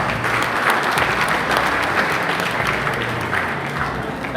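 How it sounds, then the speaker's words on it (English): A large crowd at a business summit gives continuous, dense applause, loud and evenly sustained throughout with no break or voices rising above it. "Please, a round of applause."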